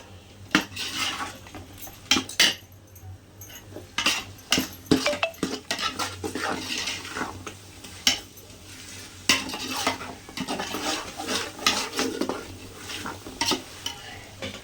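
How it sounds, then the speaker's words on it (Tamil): Coriander being stirred into a pot for Ambur chicken biryani, a spoon scraping and clanking against the metal repeatedly in an irregular rhythm over a soft sizzle, close and fairly loud with no talking. "கொத்தமல்லி வந்து பார்த்துட்டிங்கன்னா நம்ம முதல்ல போட்டு ஒரு 2 செகண்ட் நல்லா கலரணும்"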